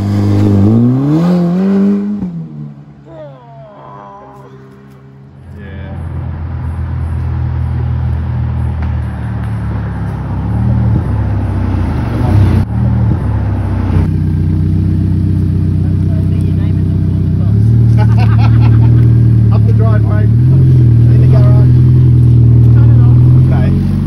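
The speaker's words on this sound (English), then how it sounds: "some laps around the block in a brand new Italian supercar" A brand new Ferrari supercar drives laps around a block in Queensland, its engine rumbling and revving in rising and falling surges, fairly close and loud, with people talking over parts of it.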